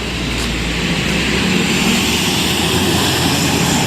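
Steady, loud engine roar of a PO Transport bus with a 1626 engine, a continuous broadband drone holding even throughout with no talk.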